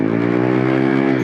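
A Honda ADV 160 scooter is ridden after a torque drive bearing replacement, its engine holding a loud, steady, close-up drone with a smooth even hum throughout.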